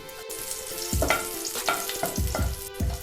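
Four crushed garlic cloves, skins left on, fry in oil for a crispy flattened-rice snack mix, giving a close bubbling sizzle broken by several distinct spattering pops and stirring knocks, with no voices.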